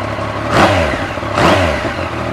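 A Yamaha MT-09 motorcycle engine idles, then is blipped twice in quick succession, each rev climbing sharply and falling back to a loud, close, throbbing idle.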